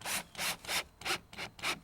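A waxed galvanized screw is driven into a wooden board, giving six rhythmic rasping, grinding bursts in quick succession, close up and fairly quiet with no talking.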